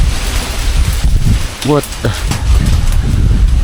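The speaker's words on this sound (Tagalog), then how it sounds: "Lakas na hangin." Strong outdoor wind buffeting the microphone in a steady low rumble and roar, with a few short spoken words over it.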